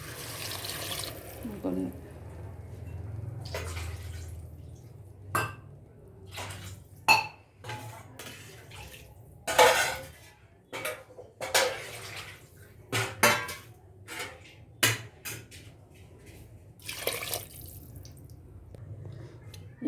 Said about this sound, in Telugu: ఇలా ముక్కలు మునిగేదాకా వాటర్ పోసుకోవాలి.